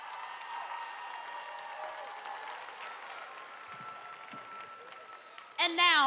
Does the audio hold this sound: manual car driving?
no